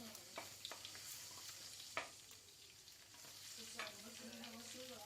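Beef tallow melts and sizzles in a pan for sac kavurma, a soft steady frying hiss with scattered small pops and a few scraping stirs, quiet and close, with no talking.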